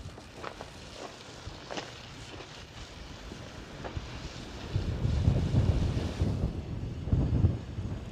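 Strong wind buffets an outdoor garden, a steady rushing roar with gusts that swell louder toward the end and bursts of low rumble from wind hitting the microphone.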